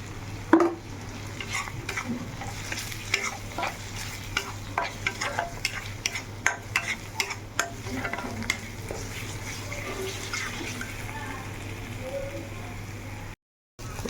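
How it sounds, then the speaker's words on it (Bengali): Ground cumin and green chilies fry in a pan with a steady sizzle, broken by scattered scraping stirs and a brief drop-out near the end, and no one speaks. "মশলাটা ভাজা হয়ে গেছে।"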